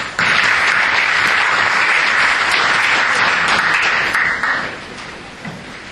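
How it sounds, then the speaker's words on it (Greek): A conference audience at an energy-sector investment session gives a loud, close round of applause welcoming the deputy minister for energy, dense clapping held steady before tapering off near the end. "Και ένα χειροκρότημα."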